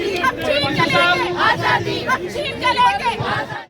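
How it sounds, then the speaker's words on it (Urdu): Protest rally crowd in Paris against Modi and in support of Kashmiri freedom, with many voices shouting rhythmic slogans in unison, loud and close, a dense babble of chanting throughout. "اس موقع پر کشمیر کی آزادی کے حق میں اور مودی کے مظالم کے خلاف خوب نعرے بازی کی گئی۔"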